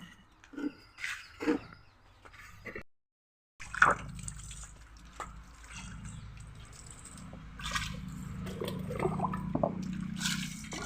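Soaked rice, lentils and fenugreek are ground by hand in a small stone mortar, giving irregular wet squishing and scraping strokes with a short pause partway through, close and moderately loud.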